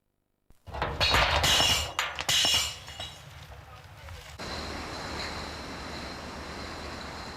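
Glass bottles clink and rattle loudly for a few seconds while a sorting machine pushes clear and coloured bottles into separate holes. A steady mechanical hum follows, and a narrator talks over the sound.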